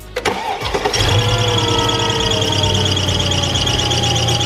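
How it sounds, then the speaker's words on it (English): A Mercedes E55 engine starts and then runs loudly with a sustained high-pitched drive belt screech over its rumble, harsh and continuous. "the belt started making an extremely loud noise"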